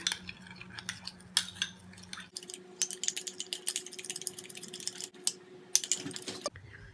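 A homemade milk-cream skin cream being mixed with a small spoon in a bowl: rapid, close, irregular clicking and tapping strokes, fairly quiet, continuing for several seconds without speech.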